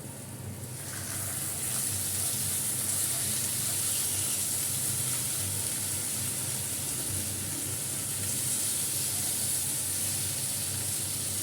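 Fish pieces laid into a pan of fried onions set up a steady, loud sizzle and hiss that holds evenly throughout, no speech.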